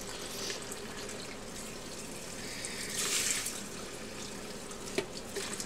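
Water pours steadily into a pitcher for mixing powdered laundry detergent, a soft continuous splashing flow at moderate distance with a brief brighter gush midway and a small clink near the end.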